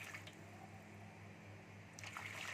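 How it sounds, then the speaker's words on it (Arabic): Boiling water poured into a baking tray for steamed roast chicken, a soft continuous splashing stream heard close, with a few brighter sloshes near the end. "هنبدا نضيف في الصينيه ميه تكون بتغلي كده"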